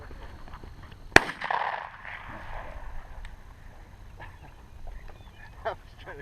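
A single sharp, loud gunshot on a bird hunt cracks out and echoes briefly. Faint outdoor ambience and distant sounds follow.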